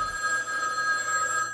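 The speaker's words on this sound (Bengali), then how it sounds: "এমন সময় টেলিফোনটা বেজে উঠল।" A telephone bell rings steadily and fairly loud, a sustained electronic ring used as a sound effect in a Bengali radio drama, heard alone with no talk.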